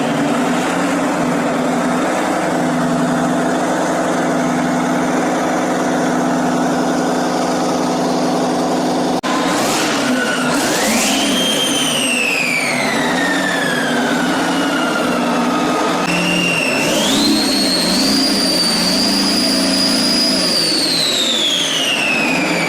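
A Waukesha VHP stationary engine of the kind used at isolated oil fields runs loud and steady, a rough low drone joined partway through by rising and falling whine-like tones as its speed shifts, with no voices.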